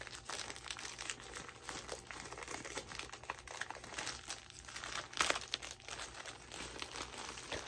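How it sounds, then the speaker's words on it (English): Crinkly plastic mailer packaging from an overseas shipment being torn and ripped open by hand, a steady close rustling and crackling with a sharper tear near the end. "gonna rip it open. Just rip it open, Janelle."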